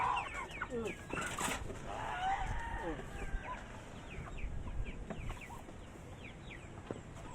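A flock of young roosters, nearly three kilograms each, clucks busily and continuously at close range, with overlapping calls and an occasional louder squawk, while a person talks in the background.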